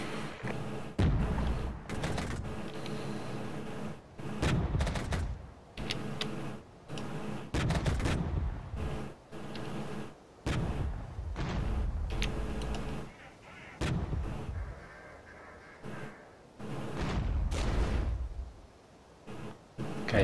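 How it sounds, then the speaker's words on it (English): Sustained gunfire in the real-time tactics game Regiments: dense volleys of shots and heavier booming reports roll on almost without a break, layered and mid-distance, with no clear talk. "These guys are firing on the run."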